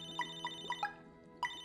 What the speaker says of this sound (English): The Funhouse Adventure Phone! Someone get it!